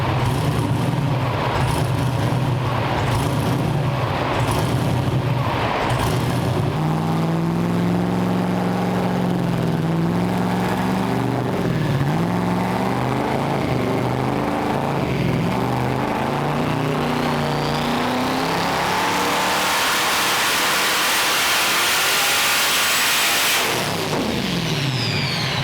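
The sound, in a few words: twin turbo 427 engine revving on a dyno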